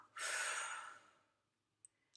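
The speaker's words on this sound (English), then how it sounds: "It's just breathing and thinking about breathing. You breathe in and out." One slow, audible breath, a long airy exhale that swells quickly and then fades over about a second, followed by a couple of tiny clicks in otherwise quiet surroundings.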